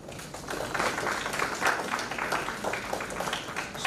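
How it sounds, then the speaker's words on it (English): A conference audience at a life cycle management event gives a moderate, fairly distant round of applause with an uneven, rippling texture. "The entire team of GFRF deserves a deep round of applause"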